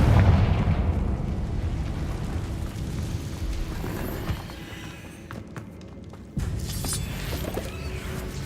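A Confringo spell explosion in Hogwarts Legacy, a loud rumbling blast with dense low-end boom that sustains and swells over several seconds, with a second burst of impact near the end.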